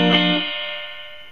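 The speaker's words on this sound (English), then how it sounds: "The reverb on this amp," A single Fender Telecaster chord through a Kustom Coupe 36 tube amp rings out with a distorted tone and a long reverb tail that slowly fades, with no other sounds.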